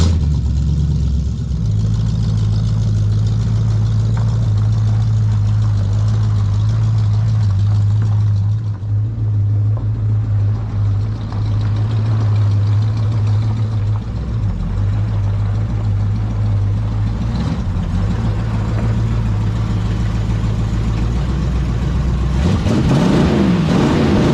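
A car engine cranks and starts, idles with a steady low rumble, then revs as the car is driven up in front of a shop; loud and close, no speech.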